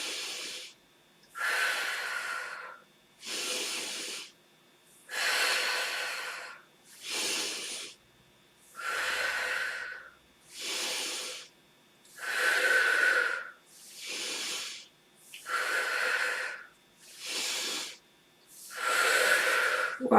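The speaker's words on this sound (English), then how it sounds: "we can exhale through the mouth, okay? So inhale, exhale, inhale, exhale. A little bit faster." Fast, rhythmic breathwork, about a dozen forceful mouth exhales alternating with inhales in steady bursts, close and clear against near silence.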